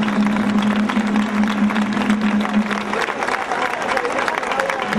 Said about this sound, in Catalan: m'agradaria que, si pot ser, un fort aplaudiment per ells